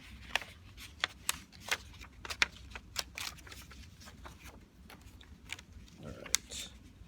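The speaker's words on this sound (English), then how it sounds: "Maybe I need to do a little reverse fold here." A paper pop-up card being reverse folded by hand, heard as soft crinkles and sharp creasing taps at close range with a rustle near the end.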